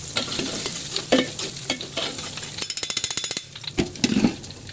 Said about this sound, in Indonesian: kita goreng sampai dia kecoklatan